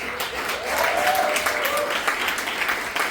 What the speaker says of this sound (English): Please give a big, loud round of applause for my band.